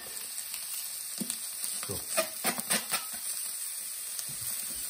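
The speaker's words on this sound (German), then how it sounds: "Ich gebe jetzt diese Hähnchenbrust hier in die trockene Pfanne rein." Chicken breast sizzles in a dry pan without added fat, a steady close hiss with scattered crackles and pops; a voice briefly speaks over it.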